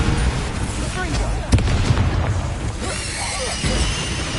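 A Bombarda blast from the spell in Hogwarts Legacy, a sharp booming impact near 1.5 seconds within a dense wash of game combat noise, crackling debris and rumbling effects throughout.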